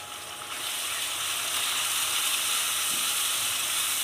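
Finely chopped onion fries in a pan with a steady, loud sizzling hiss that swells after a brief quieter start and then holds evenly, with no talking.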